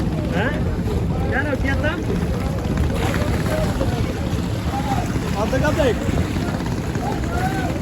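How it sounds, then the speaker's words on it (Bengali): Engine-driven boats pass on a river beside a fish market where fresh shrimp come in, a steady motor drone mixed with wind buffeting the microphone and people talking throughout. "এই যে নৌকা একটা আসছে, আর একটা এই যে যাইতেছে"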